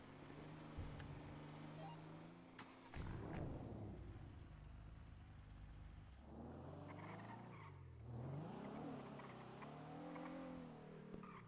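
A video game car engine revs and shifts pitch, rising and falling as it drives, with occasional skidding, fairly quiet and steady.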